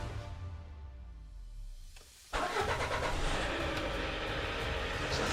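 A Lada Vesta car engine cranks briefly after a quiet, low hum, then catches and settles into a steady, fairly loud running drone that lasts to the end.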